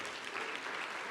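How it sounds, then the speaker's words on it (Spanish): Congregation at a Sunday church service breaking into dense, sustained applause that stays fairly faint and even, with no talking over it. "dale un aplauso al Rey."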